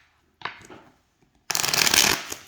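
A deck of linen-finish playing cards riffled close up: a brief flutter, a pause, then a louder, longer dense riffle of snapping cards, with no voices.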